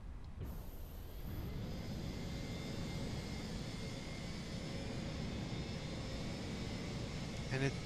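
Fenix A321 airliner engines running just after startup in Microsoft Flight Simulator, a steady jet whine and hum that starts abruptly and holds evenly, fairly quiet.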